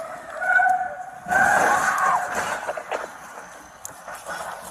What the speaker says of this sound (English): I just struck a police car